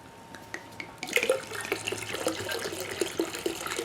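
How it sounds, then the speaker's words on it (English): Lukewarm tap water runs steadily into a bucket being topped up to six gallons for a Shiraz wine kit, a close, continuous splashing pour that starts after a brief pause and carries on alone. "Now I'm going to top this bucket off to the 6 gallon mark, which is right in this area right here, with just lukewarm water."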